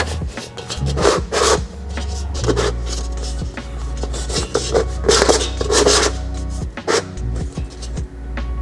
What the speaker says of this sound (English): So shape the elbow into an angle by rotating the parts.